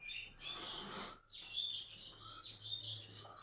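Small birds chirping and tweeting close by in a village room beside open fields, bright repeated calls with a brief pause, fairly faint and with no talk.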